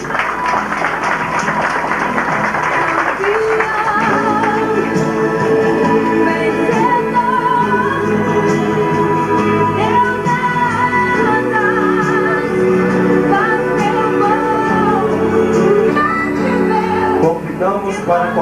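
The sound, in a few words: applause at a theology graduation ceremony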